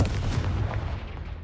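A Confringo spell explosion in the Hogwarts Legacy game, one heavy booming blast with a rumbling tail that slowly fades.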